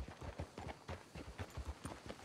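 Horse hooves clip-clop at a steady walking rhythm in Red Dead Redemption 2, the hoofbeats fairly close and clear, with no talk over them.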